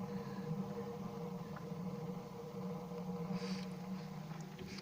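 A rocket stove mass heater burning pellets roars steadily at a low level, a continuous whooshing draft with a faint hum and no talk over it.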